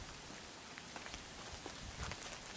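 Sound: rain falling outdoors in Oxford

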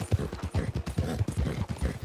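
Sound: horse galloping in the video game Red Dead Online

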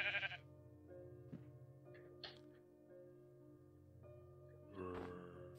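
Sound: sheep bleating in a farming video game

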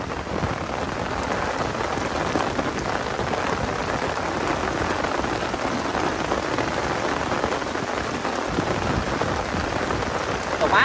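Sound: rain falling while fishing

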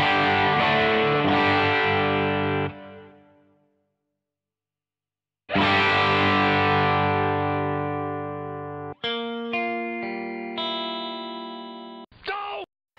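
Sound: guitar through Crazy Tube Circuits Hi Power pedal, high-watt amp tone

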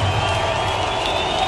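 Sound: football stadium crowd cheering

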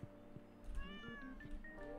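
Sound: cat meowing

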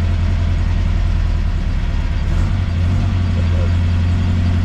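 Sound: cold 1965 Volkswagen Beetle engine idling

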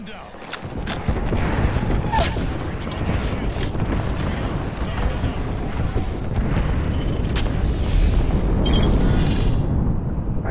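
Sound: airstrike explosions in a video game

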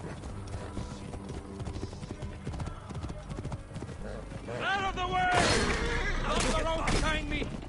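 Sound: horse galloping in a video game

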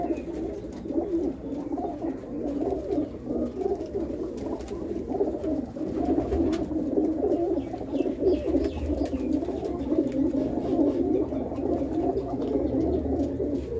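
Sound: flying pigeons cooing in their loft

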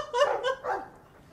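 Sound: dog barking in the video game Dragon Age 2

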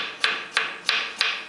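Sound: cutting salad vegetables into pieces for fattoush

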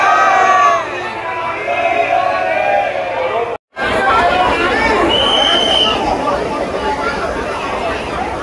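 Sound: crowd at Banke Bihari temple

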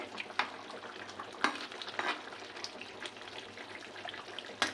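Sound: fish curry gravy boiling in pan

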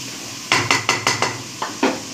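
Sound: covering a cooking pot with its lid

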